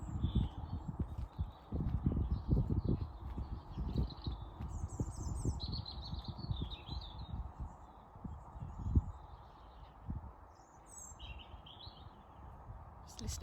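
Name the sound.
birds chirping in the garden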